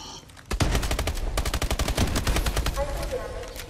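Rapid automatic gunfire from the Call of Duty Advanced Warfare video game, a dense burst of sharp repeated shots lasting several seconds, loud and continuous after a brief quiet start.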